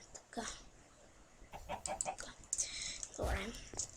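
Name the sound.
Minecraft chicken clucking, video game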